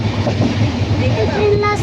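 A passenger train runs on the Dadar to Kudal route in the Konkan during monsoon, giving a steady low rumble and rattle inside the coach while people talk over it.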